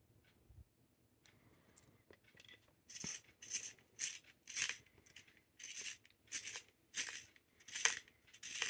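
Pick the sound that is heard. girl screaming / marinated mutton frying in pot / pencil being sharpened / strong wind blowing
pencil being sharpened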